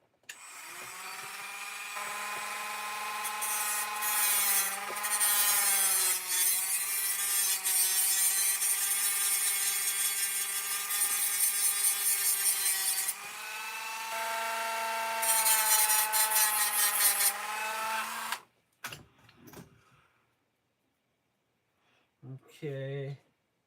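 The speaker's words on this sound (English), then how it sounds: "all I'm doing is trimming that tab off the edge." A rotary tool whines steadily as it trims a tab off the edge of an RC car part. The close, high buzz rises and dips under load, then stops and leaves a few faint handling noises.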